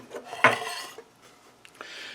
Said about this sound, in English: So if we take this carburetor bowl off, like that